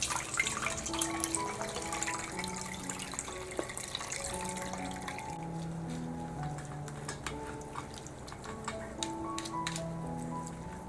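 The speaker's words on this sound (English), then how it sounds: "I'm gonna pour some water." Water runs steadily into flattened rice (poha) in a kitchen to wash it, a continuous splashing stream with faint clinks and drips toward the end.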